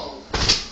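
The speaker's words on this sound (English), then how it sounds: "Loud ass fucking door." Door in the video game Saints Row The Third, a single short heavy thud or slam with a whooshing swing, loud and close over faint game ambience.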